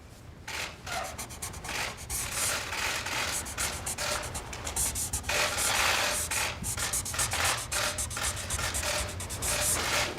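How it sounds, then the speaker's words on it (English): Pen scratching across paper as a bill is signed at a Women's Suffrage Coin Act ceremony: a continuous close, rough rubbing with short strokes and brief lifts, no one speaking. "So let me sign this first."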